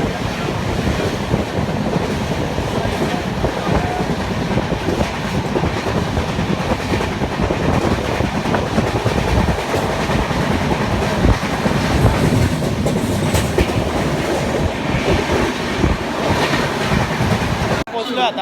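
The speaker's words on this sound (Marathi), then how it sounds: "हे बघा ट्रेन इथे आहे." Passenger train running on rails at steady speed, a continuous loud rumble with rattling carriages and rhythmic clatter filling the whole stretch, heard from on board with wind buffeting.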